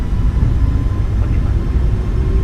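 Boeing 737 MAX 8 engines at takeoff thrust in the MSFS2024 flight simulator: a loud, steady, deep roar with a rumbling low end, continuous throughout with no break or talk.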